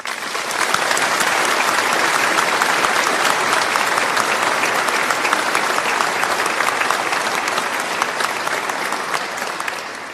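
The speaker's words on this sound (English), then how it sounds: "could I ask you all to join with me in giving her a round of applause" Steady, dense applause from a large graduation ceremony audience fills the whole stretch at an even, loud level, with no pause and no voices breaking through, easing only slightly at the very end.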